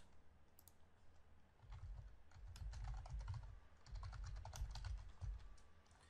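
Typing on a computer keyboard while writing Oracle PL/SQL code: soft, steady key clicks in quick irregular runs, faint and close, with no voice.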